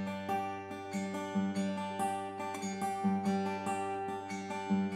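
A guitar plays a steady fingerpicked arpeggio that blends two picking patterns, one ending on the second string and the other on the first, with clear repeating plucked notes ringing over sustained low bass tones.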